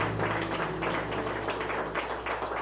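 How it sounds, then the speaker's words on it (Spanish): Applause from a church congregation at a marriage dinner, steady and dense clapping filling the whole stretch without a break under a low constant hum. "Den un aplauso fuerte al Señor"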